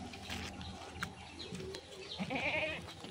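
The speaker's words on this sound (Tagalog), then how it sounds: "pagkalaki-laki ng kambing na lalaki." A big male goat bleats on a small Filipino farm, a few faint, scattered cries heard at a distance over light outdoor background noise, with no talking.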